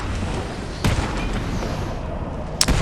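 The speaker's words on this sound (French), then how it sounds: "Pour qu'ils soient sonnés par la déflagration de l'explosion." In Batman: Arkham City, two sharp explosive blasts cut through a constant rumbling game soundscape, the first about a second in and the second near the end, both loud and punchy.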